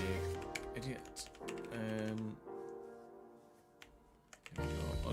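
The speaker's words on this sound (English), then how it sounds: "That's because you're typing in the wrong fucking boxes, isn't it?" A computer keyboard clatters with quick, irregular bursts of close keystrokes, pausing and resuming, with voices in the background.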